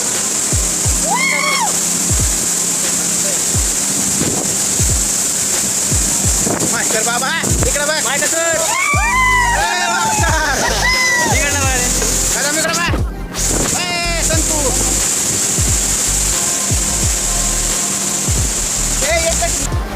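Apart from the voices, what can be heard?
Bilgaon waterfall in Nandurbar, falling water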